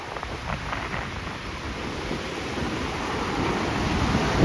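Strong wind gusts across the beach at Anna Maria Island during Hurricane Idalia, mixing a constant, loud, rushing roar and microphone buffeting with crashing surf that builds slightly toward the end.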